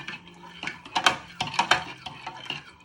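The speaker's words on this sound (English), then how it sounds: "you want to give it a good stir so they both evaporate" A spoon stirs vegetable stock cubes in hot water in a measuring jug, with repeated close clinks and scrapes against the side in an uneven rhythm, fairly quiet with no talking.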